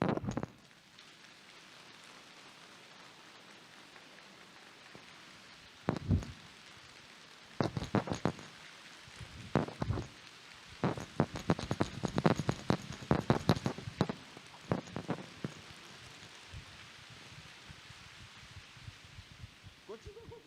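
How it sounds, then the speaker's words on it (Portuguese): Rain begins to fall, first a few scattered drops and then a quickening patter of close, irregular taps that builds in density before easing off, with a soft background hush throughout. "Começa a chegar a chuva."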